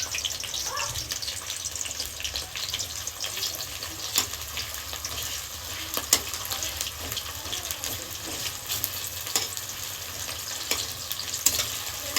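Onion pieces frying in hot oil in a pan for soybean curry, giving a steady, close hiss and crackle with occasional sharper pops, without speech.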